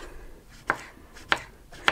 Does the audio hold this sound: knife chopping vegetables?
yes